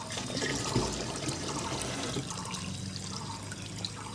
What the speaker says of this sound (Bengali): এই জল বেরোচ্ছে এই যে দেখো জলের কোয়ালিটি জল জল ভরছে এটা হচ্ছে খাওয়ার জল